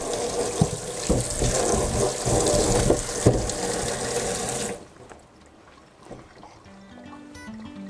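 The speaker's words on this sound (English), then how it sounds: "We wash a cucumber." A cucumber is rinsed under a running kitchen tap, a steady loud rush of water splashing into a sink for about five seconds, then the flow cuts off, leaving faint handling sounds.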